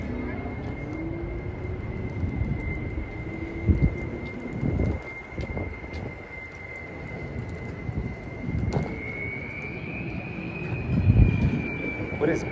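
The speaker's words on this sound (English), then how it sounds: "Oh, it's that truck. It's whistling Dixie. He's got kazoos on the muffler" A truck with a modified, whistling muffler cruising a Denver road at night gives a steady, high, piercing whistle like a plane coming in to land, rising slightly near the end over rumbling traffic and passing vehicles.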